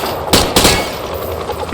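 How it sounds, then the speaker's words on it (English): Two loud, sharp bursts of hip-fire from a weapon in Call of Duty: Modern Warfare (2022), close together near the start, then a softer decaying tail over game ambience. "Grab that weapon off the table and fire at the targets behind you."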